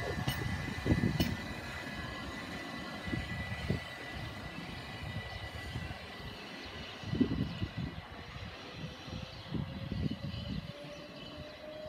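Southeastern Class 375 Electrostar electric trains at Rainham, Kent, moving off with a steady low rumble and rising motor whine, with occasional louder clunks, heard at moderate distance alone.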